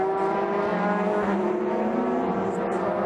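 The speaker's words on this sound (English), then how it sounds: "Wakisaka at the wheel, man who won here in 2000, driving the Zexel Nissan Skyline GTR." Zexel Nissan Skyline GTR race car at Motegi during a Super GT race, its engine droning steadily and loudly under a constant high-revving whine with layered harmonics, a broadcast commentator audible faintly beneath.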